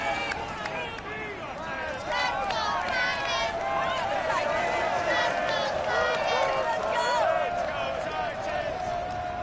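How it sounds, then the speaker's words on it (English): Stadium crowd cheering and roaring in Madden Football before a Browns–Titans Halloween NFL game, a steady loud wash of voices and whistles with shouts rising over it throughout. "This crowd here fired up for football as a moment ago their Titans were introduced."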